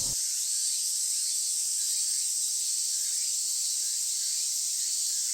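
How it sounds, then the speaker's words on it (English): A cicada chorus in the Tsukihime game fills the air with a dense, unbroken high buzzing drone, loud and constant throughout, with no voices. "the overwhelming cries of cicadas"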